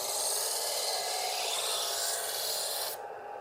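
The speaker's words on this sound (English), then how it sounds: "lower the heel of the blade down until you hear the grinding noise" A Smith's Diamond Edge electric knife sharpener grinds against a blade drawn through its slot, giving a steady, bright, raspy hiss that holds for about three seconds and then cuts off sharply.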